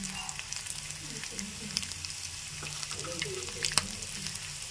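Mustard seeds and lentils sizzling and crackling in hot oil, a quiet close frying hiss broken by sharp little pops and spatters, with a stir or two.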